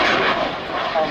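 A one-off Pitts S2S Special aerobatic biplane fitted with a jet engine, flying at an air show at Duxford, gives a steady, broad roar that swells slightly partway through, heard at a moderate distance with no speech over it.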